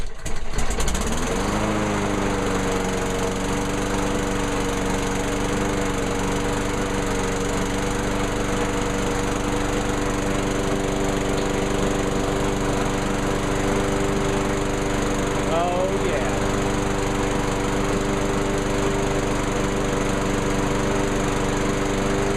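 A Craftsman lawn mower engine catches almost at once and then runs continuously, loud and close. The steady buzzing drone holds for over twenty seconds with a slight pitch wobble midway.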